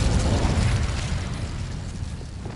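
Incendio fire spell cast in the Hogwarts Legacy video game, a loud roaring burst of flame that rumbles heavily at first and slowly thins out over a couple of seconds, with no voices.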